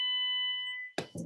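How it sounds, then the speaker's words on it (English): A household alarm going off, a steady high electronic tone holding for almost a second before cutting off, followed by two short bursts of noise, faint and alone. "That is my alarm."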